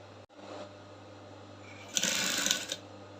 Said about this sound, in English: So I'll keep sewing